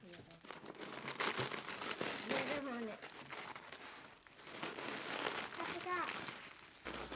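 Layered papery walls of a frozen bald-faced hornet and yellowjacket nest are pulled and torn open, giving continuous close crinkling, crackling and ripping, with a person talking over the tearing.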